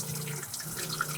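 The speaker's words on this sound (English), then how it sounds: "And it's just a cold water shower." Cold water runs steadily from a shower mixing valve on a sailboat, a soft continuous splashing hiss, close and fairly quiet.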